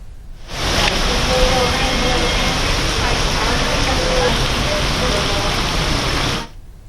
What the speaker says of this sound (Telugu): ఇవాళ ఉదయం నుంచి హైదరాబాద్ వ్యాప్తంగా వర్షాలు కురుస్తూనే ఉన్నాయి